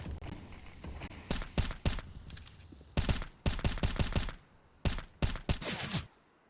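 Spray gunfire in a Counter-Strike match rattles in sharp rapid bursts, clusters of cracking shots separated by short pauses, loud and close over faint background game noise.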